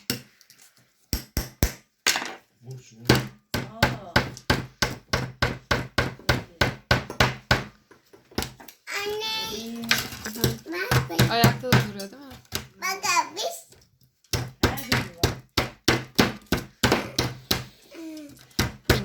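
A nail chips at a stone-breaking dig kit in steady runs of sharp, close taps, with a pause in the middle where a child and an adult talk.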